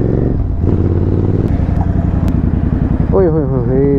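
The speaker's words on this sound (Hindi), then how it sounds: "सो एग्जॉस्ट है इसमें एटम बैरल एग्जॉस्ट" Exhaust of a Royal Enfield Interceptor 650 fitted with aftermarket barrel exhausts, a steady loud twin-cylinder idle and putter with a short rev near the end, with a voice calling out over it.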